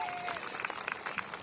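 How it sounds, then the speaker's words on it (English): A crowd applauds at an outdoor kickoff ceremony for the historic Franklin School renovation, steady dense clapping throughout with a whistle near the start and scattered cheers mixed in. "Let's give them a big round of applause."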